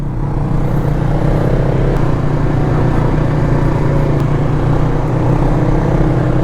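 A quad ATV engine rumbles steadily during a group trail ride in the Woodridge South area of Eastman, loud and close with a constant low drone throughout.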